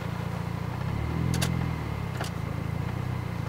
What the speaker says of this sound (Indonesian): Meraung sedikit enggak apa-apa daripada mati.